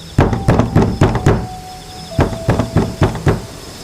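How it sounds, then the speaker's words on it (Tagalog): Loud knocking on a house door at night: two bursts of rapid heavy raps, about five blows each, separated by a short pause, close and sharp with no voices. "kumatok siya ng malakas"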